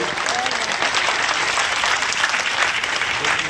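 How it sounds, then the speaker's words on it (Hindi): Dense crowd applause rings out for honoured children at a political gathering, loud continuous clapping with no break. "खड़े होकर एक बार जोरदार ताली बजाएं"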